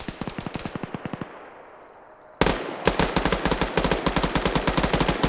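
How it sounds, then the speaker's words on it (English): Rapid bursts of tank and gun fire from a PvP video game match, loud repeated shots in a fast rhythm, a brief lull, then a sharp heavy blast followed by sustained rapid firing. "even the tank's shooting at him"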